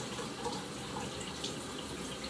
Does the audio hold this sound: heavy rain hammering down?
no